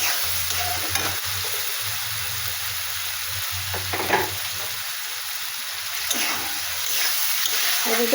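Ginger, chilli powder and cumin paste fry with tomato in a pan for a fish and potato curry, a steady close sizzle with stirring scrapes and a faint low hum beneath.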